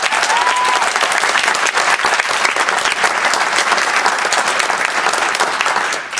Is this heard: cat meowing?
no